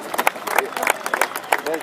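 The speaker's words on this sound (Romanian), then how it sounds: "Aplauze!" Applause at a tank battalion's 60th anniversary celebration in Bacău: a scattered, uneven burst of hand clapping from a small crowd, close by and fairly loud.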